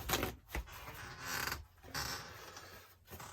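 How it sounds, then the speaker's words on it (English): A squeaky chair creaking in several separate bursts, close and fairly loud, irregular squeals with short pauses between them and no talk. "a squeaky chair"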